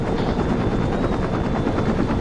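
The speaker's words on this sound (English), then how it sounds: "Where's the chopper?" Helicopter in the video game Saints Row 2, its steady loud rotor and engine roar holding without a break throughout.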